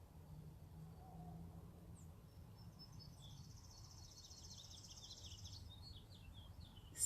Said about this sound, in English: You hear the birds, y'all?